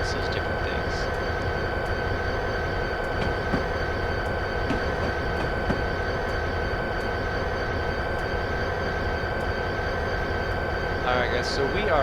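Simulated Amtrak F40PH locomotive and train rounding a bend in Train Simulator, a steady loud rumble of rolling stock with a sustained tonal whine and faint wheel squeal late on, continuous with no pauses.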